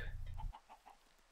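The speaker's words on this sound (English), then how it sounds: "He's ignoring this chicken, though, or these chickens, which is really annoying me." Chickens cluck in the Minecraft UHC video game, a short run of quick, faint clucks heard alone after a brief burst of low rumble.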